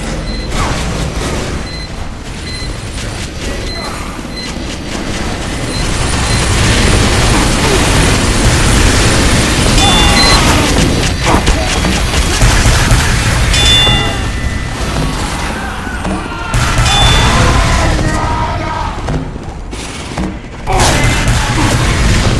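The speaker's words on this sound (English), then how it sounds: "minigun noises are kind of annoying now" A minigun firing in Team Fortress 2, heard as a long, loud, continuous rattling roar mixed with booms and crashes from the fight, with some speech in the mix.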